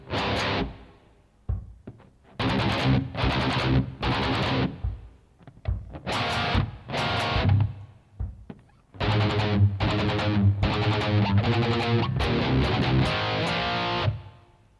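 Heavily distorted electric guitar plays the verse in bursts of chugged power chords and gaps, loud and up close, with no one talking.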